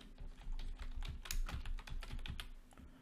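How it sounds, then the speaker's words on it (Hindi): Typing on a computer keyboard, a steady run of close, quick key clicks with no talking, as a name is entered into a title field. "मैं अपना नाम टाइप कर देता हूँ"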